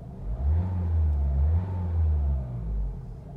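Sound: Mercedes A-Class engine revving

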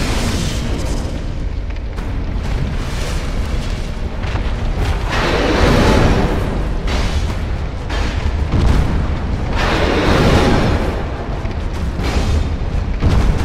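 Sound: explosion in the video game Dark Souls 2

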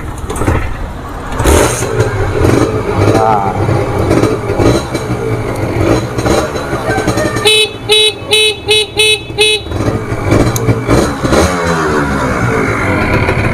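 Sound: used motorcycle engine sound check

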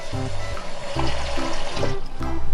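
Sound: pouring out lime water and adding plain water to rinse pumpkin

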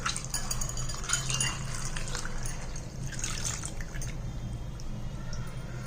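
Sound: rubbing and washing kidney beans in water

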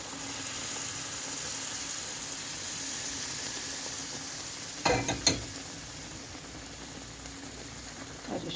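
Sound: stirring semolina and flour halva in a sizzling pan

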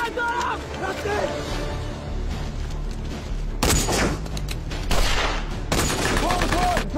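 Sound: gunfire in a D-Day war film

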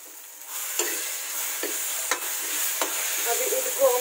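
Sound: tomatoes being stir-fried in pan

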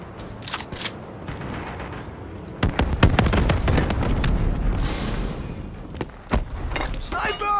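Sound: Hellstorm missile strike explosions in video game Call of Duty Black Ops III

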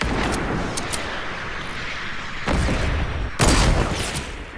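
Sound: gunfire and a sniper shot in the video game Fortnite

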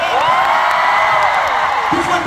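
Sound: audience applauding and cheering for Ten

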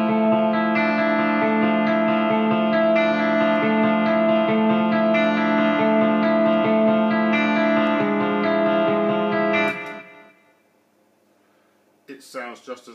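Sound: electric guitar with reverb before amp

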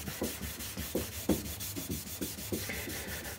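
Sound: abrasive rubber block rubbing rust off iron hand plane

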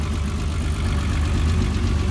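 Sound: VW Golf 3 VR6 Turbo engine idling

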